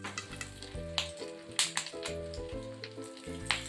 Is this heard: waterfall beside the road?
no